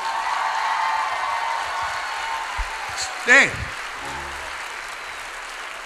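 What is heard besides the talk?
applause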